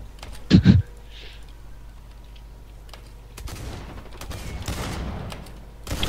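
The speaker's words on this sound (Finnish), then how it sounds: "hei mä ammun jonkun kiväärillä" Rifle fire in the shooter video game Blacklight Retribution: a loud close burst of shots early, then scattered cracks and rattling gunfire that build toward the end.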